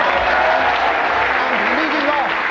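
A studio audience claps together in a dense, steady patter that continues throughout, with a voice speaking over the applause.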